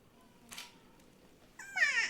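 A cat meows once near the end, a clear rising and falling cry after a brief soft thump, in a quiet room.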